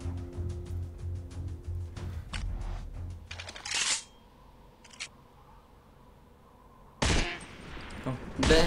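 Rapid bursts of gunfire from the hunting video game Deer Hunter 2018, with clusters of sharp cracks near the start and around four seconds, separated by quieter stretches and a loud final flurry.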